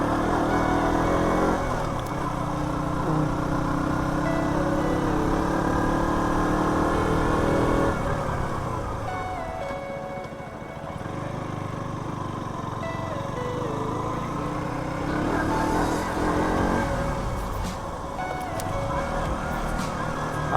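A car engine runs steadily while driving, a loud continuous drone with shifting pitch that dips slightly around the middle and again near the end.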